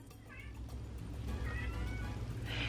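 A cat at the door meows several times, with short, clear calls at moderate distance over a low background rumble.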